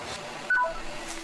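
A phone call with a car-loan company is cut off, followed by a short run of three stepped electronic telephone tones about half a second long that ends the line over a faint hiss.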